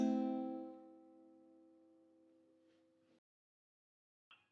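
A single strummed guitar chord rings out and slowly decays, followed by faint string squeaks and a brief scrape near the end.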